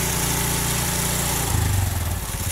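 A Honda Revo motorcycle engine runs during carburetor tuning: a close, steady putter at a fairly high idle that drops to a lower, rougher idle partway through.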